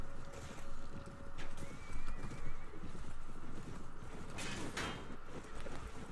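A horse whinnies and snorts amid clip-clopping hooves and busy background noise in the video game Mount & Blade (Floris mod), with a few bright sliding, whooshing sounds.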